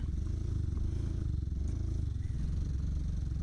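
A struggling scooter engine with a fault and no pickup, a faint low rough drone with light rattling and clatter, steady and alone.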